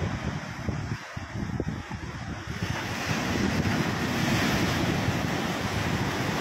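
Rough open sea with waves and strong wind buffeting the microphone, a continuous loud roar of surf and gusts that swells stronger in the second half, with no voices.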